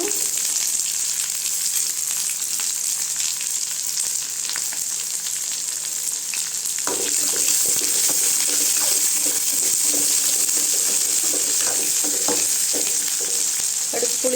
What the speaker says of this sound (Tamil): எல்லாத்தையும் நல்லா சேர்த்து வதக்கி விட்டுக்கலாங்க